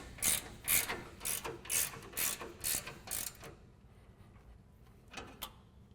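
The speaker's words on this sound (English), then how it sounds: "tighten it down with our 18mm wrench" An 18mm ratcheting wrench clicks through a rapid series of strokes while tightening a sway bar end link on an F-150 front suspension, then pauses before two more faint clicks.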